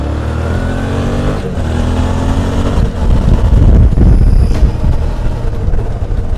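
Motorcycle ride along roads in the Belgian Ardennes, engine droning steadily with rising revs and wind rush, loud and close throughout with no talking.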